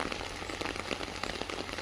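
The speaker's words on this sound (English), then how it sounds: "It's raining here in Southern California." Steady rain falling in Southern California, a dense, even hiss of drops on surfaces with no distinct breaks, moderately quiet and continuous throughout.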